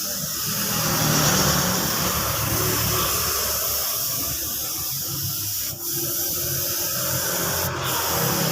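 A spray gun sprays paint onto the body panels of a Honda Beat motorcycle, a continuous close hiss that holds steady with brief dips and a couple of sharp clicks.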